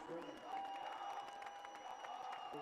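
High school football crowd at a Fairland Dragons versus Coal Grove game, a steady roar of cheering and applause filling the stadium, with a sustained horn-like tone running through it.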